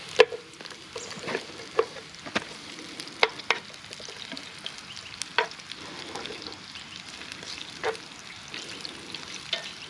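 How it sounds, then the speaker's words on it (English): Fish shallow frying in plenty of salted oil over a bush cooking setup, a steady crackling sizzle with sharp pops and spits scattered throughout, close and fairly loud, no voices. "Quite a lot of oil in there because I want to sort of shallow fry this fish"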